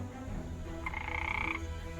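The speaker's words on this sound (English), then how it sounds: "Vulkan, step away from the frog." Cartoon frog croaking in an animation: a single drawn-out, buzzy croak rising out of a steady low background hum, fairly close and clear with no talking over it.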